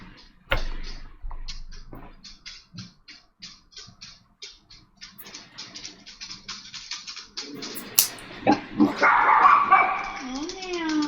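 Dogs bark and yip in quick bursts, close by, with whimpers and a rising whine toward the end, while a person speaks intermittently underneath.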